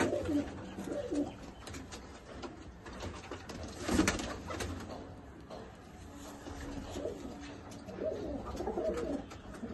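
Soft repeated cooing of pigeons nearby, low throaty calls rising and falling over a quiet background with occasional shuffling.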